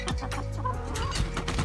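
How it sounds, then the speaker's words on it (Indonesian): Backyard chickens in Australia cluck close by, several birds giving short overlapping clucks and calls in a busy, continuous flurry around feeding time. "Ya, ngasih makan ayam."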